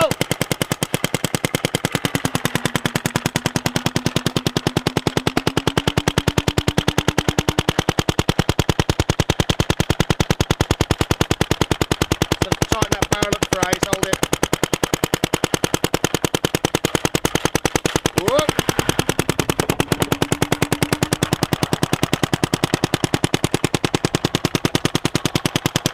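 A hopper-fed flywheel blaster fires continuously, a rapid, even stream of loud snapping shots like a machine gun, with a motor whine rising and falling underneath throughout.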